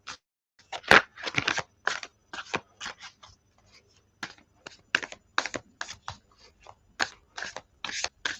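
Tarot cards being shuffled by hand give a close, quiet series of crisp papery riffles and taps in irregular bursts with brief pauses between.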